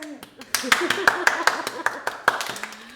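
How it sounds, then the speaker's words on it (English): Scattered hand claps from a small group, uneven and fairly close, with a voice talking over them. "I'll give him a little round of applause."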